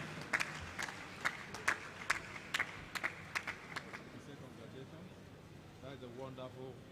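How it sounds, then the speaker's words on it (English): An audience at an award ceremony during an international conference claps in a short burst of applause, rhythmic and moderately near, fading after a few seconds as a voice starts speaking. "A round of applause for him, ladies and gentlemen."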